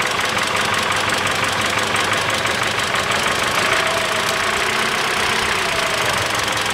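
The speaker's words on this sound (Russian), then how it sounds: "двигатель нормально не работает" A Mitsubishi ASX 1.8 engine idles roughly with one fuel injector disconnected, giving a steady, uneven knocking rumble that runs loud and close without a break.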